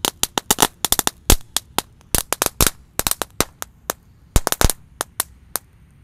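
Roman candle fireworks burst in a rapid, irregular string of sharp, loud bangs and pops, some in quick clusters, going on for several seconds.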